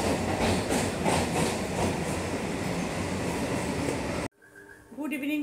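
An empty passenger train running on rails, a loud, steady rumble with rhythmic wheel clatter that cuts out abruptly, followed briefly by a voice speaking.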